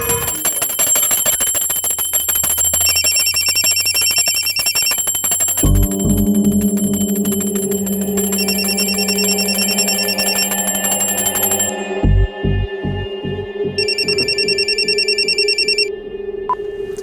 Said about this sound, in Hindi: अभी फोन की घंटी बजाने की क्या जरूरत थी?